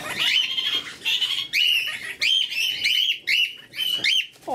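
Kakariki and cockatiels in an outdoor aviary on a chilly, frosty morning give bright, repeated chirps and whistled calls in quick bursts, close and fairly loud, with no voices.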